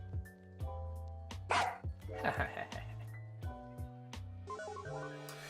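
A dog barks a few short, scattered times in the middle distance, mixed with a person talking and steady electronic tones underneath.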